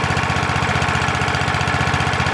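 A small engine fed by a portable wood gasifier runs steadily, a loud, rapid, even chugging pulse with no change in speed and no voices.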